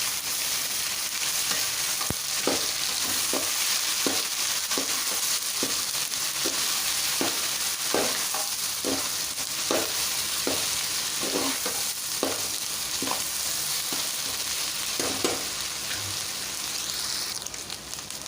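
Ginger garlic paste fries in a pan for chicken biryani, giving a continuous loud sizzle under a regular rhythm of spoon taps and scrapes as it is stirred, with no talking.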